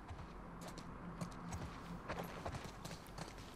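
Horse hooves clip-clopping in a video game, a steady run of soft, even hoofbeats over a constant low background, moderately distant and with no voices.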